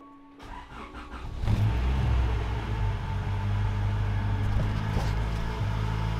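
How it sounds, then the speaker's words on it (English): A Honda Civic with a B16 engine cranks briefly and catches, the engine revving up then settling into a steady, fairly loud idle hum close by, with no talking. "So go ahead and start the car."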